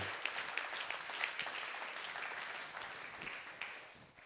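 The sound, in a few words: audience applauding the dean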